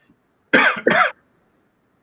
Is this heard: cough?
yes